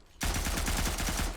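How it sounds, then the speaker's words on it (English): Machine gun mounted on a bike in a video game, firing a steady rapid stream of about a dozen evenly spaced loud shots that start abruptly and hold to the end. "I'm going to use this machine gun."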